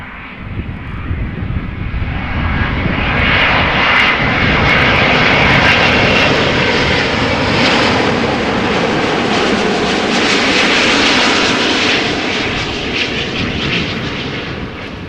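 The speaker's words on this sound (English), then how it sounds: "Isn't it a beautiful aircraft?" A Finnair passenger jet at Amsterdam Schiphol Airport in the middle of the night, its engines roaring loud and steady throughout, with a broad rushing whine that swells and fades slightly as it passes.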